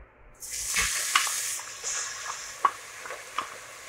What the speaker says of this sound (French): j'ai mis 4 ou 5 bonnes cuillères à soupe d'huile d'olive. Je vais rajouter l'oignon et l'ail.